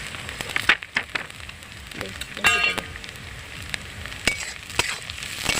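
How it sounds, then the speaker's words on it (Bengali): Capsicum frying in a pan after onions, stirred with intermittent spatula clanks and scrapes over a soft continuous sizzle, fairly close and moderately loud. "এগুলো একটু নাড়াচাড়া করে ভেজে দিচ্ছি।"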